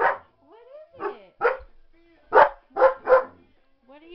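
An Alaskan Malamute barks at its own mirror reflection in several sharp, close barks and yips mixed with whimpers, interrupted by a person speaking.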